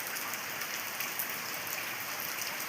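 Steady, dense rain falls heavily on a village in Thoothukudi district during harvest season, a constant close hiss of drops on surfaces with no pauses and no voices.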